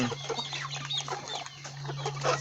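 Free-range chickens on a farm cluck and chatter continuously, several birds close by with scattered calls over a steady low hum.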